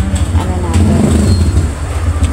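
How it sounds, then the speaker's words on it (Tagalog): A noisy motor tricycle rumbles past on a Filipino street beside a vendor's stall, its steady low engine drone loud and continuous throughout, with faint background voices. "pasensya na at maingay yung tricycle"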